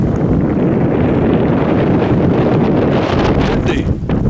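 Strong wind buffets the microphone in a continuous loud roar outdoors while riding fence, steady throughout with no break.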